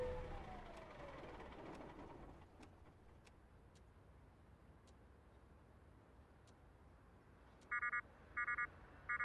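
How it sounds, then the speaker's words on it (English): A sleep alarm in American Truck Simulator sounds as three short bursts of rapid electronic beeping near the end, following a quiet stretch of low engine rumble with faint ticks. "Ah, you're getting tired. It's a sleep alarm."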